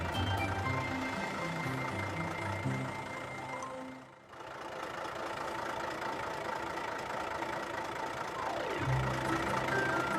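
A big truck engine in a children's cartoon rumbles steadily, dips briefly near the middle, then rises again with a deeper tone near the end, as if pulling away. No one talks.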